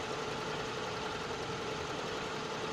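An old carburetted engine with a manual choke idles just after a cold start, giving a steady, even mechanical chugging and hum that holds at the same level throughout, with no voices.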